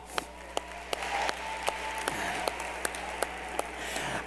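A convention audience applauds to welcome first-time attendees at a large international gathering: dense, sustained clapping fills the room steadily throughout, with sharp periodic accents cutting through the crowd noise.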